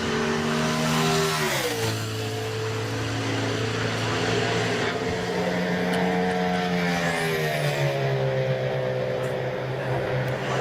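A NASCAR Sprint Cup car on a qualifying lap at Homestead roars loudly and steadily past, its engine note sliding down and then rising again, with a commentator's voice faintly underneath.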